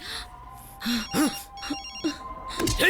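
A telephone rings in repeated bursts with steady high electronic tones, while voices talk and gasp over it.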